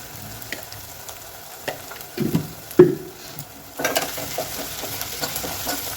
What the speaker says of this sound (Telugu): ఇలా పచ్చివాసన పోయేంత వరకు మంచిగా కలుపుకోవాలండి